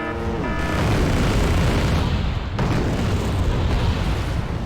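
Deep rumbling explosions from air strikes on tanks in Wargame: Red Dragon, a loud sustained roar of blasts and booms with a sharp burst partway through, no talking.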